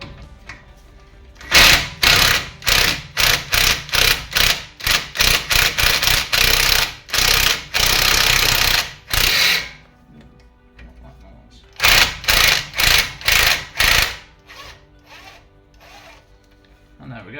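Power tool bursts undoing a 16mm nut on the anti-roll bar link of a Mini Countryman during a suspension strut change, a long series of loud, close impact-like rattling bursts with short pauses, then a second cluster of shorter bursts.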